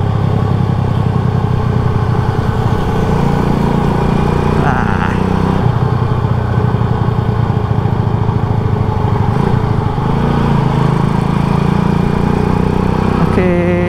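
A classic motorcycle engine runs continuously while riding, a loud, steady, close-up putter with rattling texture and slight shifts in pitch, with no voices over it.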